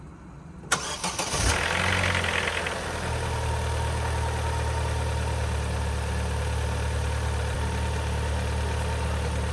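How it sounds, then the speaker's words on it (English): A wrecked Vauxhall Corsa VXR engine cranks and fires from a cold start, then settles into a steady, loud idle that drones on close by with no talk. "So the only way we can test it is starting it up again from cold start"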